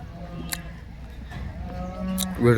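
A Holstein Friesian dairy cow lets out a loud, low moo near the end, after a stretch of quiet barn noise with a couple of sharp clicks.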